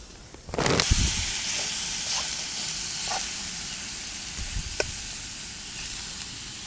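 A low, wide gas camping stove hisses steadily while cooking outdoors in the woods. A soft ignition thump opens a broad, even rush that holds throughout, with faint clicks and taps on top.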